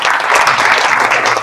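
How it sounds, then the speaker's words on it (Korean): An audience at a Korean church theology forum applauds steadily, a dense, loud wash of clapping throughout with no talk over it. "우리 두 분께 우리 감사의 박수를"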